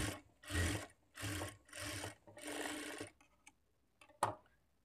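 A sewing machine stitches a folded seam in cloth in four close, steady runs of rapid mechanical whirring, followed by a few quiet clicks and one sharp knock.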